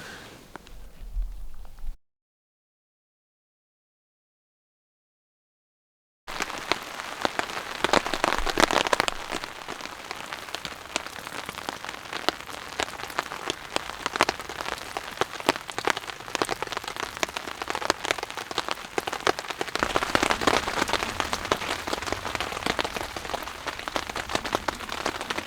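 Steady rain patters on a forest at night with no tent overhead, a dense even hiss of drops that runs on at length after a short silent gap, with no voices.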